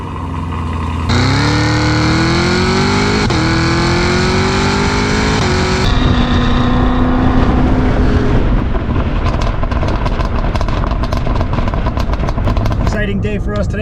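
A 2022 Cadillac CT5-V Blackwing with an automatic transmission accelerates hard on a top speed run, its loud engine note climbing steadily through several gear changes before settling into a sustained roar with road and wind noise.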